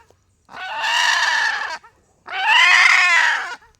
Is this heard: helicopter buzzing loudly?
no